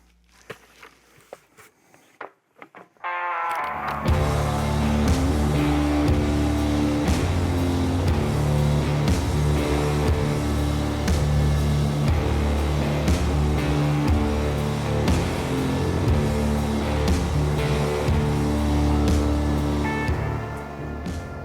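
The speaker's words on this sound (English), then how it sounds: "let's fire up the mini skid" A mini skid steer engine starts after a few seconds of quiet handling sounds, then idles and runs at a loud, steady, close rumble on a ground-prep site.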